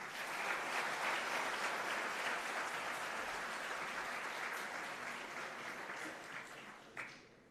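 Audience applause at a leader's talk event with Narayana Murthy: a sustained, even wash of many hands clapping that fades slightly toward the end, with one sharper clap near the close.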